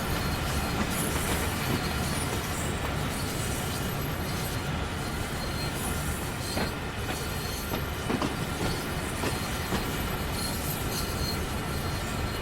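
A heavy freight train climbs Sherman Hill in wet, snowy conditions in a train simulator game, with a dense, steady roar of rolling wagons, faint wheel squeals and clicking rail joints that carries on throughout.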